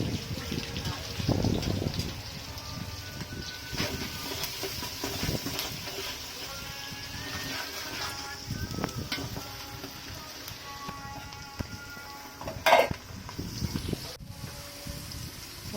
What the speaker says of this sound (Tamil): வெங்காயம் போட்டு விட்டுருங்க. நல்லா வதங்கட்டும்.